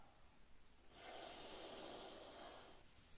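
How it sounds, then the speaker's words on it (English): A single long, breathy exhale pushed out with audible force during a breathwork session, soft and close, swelling for about a second and a half before fading into quiet. "Breathing out with sound."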